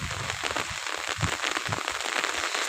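Steady rain patters densely on a surface, a continuous crackling wash of drops with no voices, outdoors near ducks.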